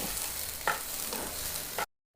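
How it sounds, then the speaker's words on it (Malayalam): Broken wheat dry-roasting in a hot pan over medium heat, stirred continuously for laddu, giving a steady soft rasping scrape and faint sizzle close by, with no talk, then a sudden cut to silence near the end. "ഗോതമ്പ് നുറുങ്ങ് ഇതാ വറവാവാനായി തുടങ്ങിയിട്ടുണ്ട്. കൈയെടുക്കാതെ നല്ല ഇളക്കി കൊടുക്കണം."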